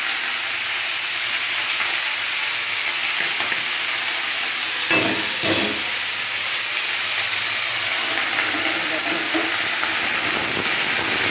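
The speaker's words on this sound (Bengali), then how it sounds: "এদিকে আমি শাকটা বসিয়ে দিলাম" Leafy greens cooking in a pan, a loud continuous sizzle and hiss with a few stirring scrapes in the middle.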